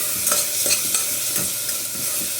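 Ginger garlic paste, salt, turmeric and spices frying and being stirred in a pan for masoor dal khichadi, a steady close sizzle broken by repeated scraping strokes of a spoon, no voices.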